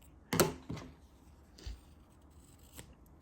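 Scissors snip through crochet yarn up close, a sharp first cut followed by a couple of softer, quieter snips in a hushed room with no talking.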